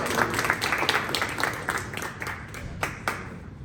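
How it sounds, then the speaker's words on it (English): Scattered clapping rises from a middle school ceremony audience welcoming a sixth-grade student speaker, a thin uneven patter with a few sharp claps standing out near the end. "Clap it up for Zakai."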